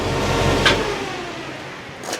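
A restored 1953 GMC truck engine runs at a low idle, rumbling steadily at first and then fading quieter, with a couple of short clicks and no voices.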